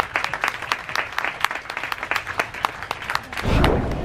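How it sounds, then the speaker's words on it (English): Scattered, uneven clapping comes from an audience aboard the Regal Princess cruise ship. The distinct individual claps sound fairly close, and a low rumbling burst of crowd noise rises near the end. "So give yourself a good round of applause."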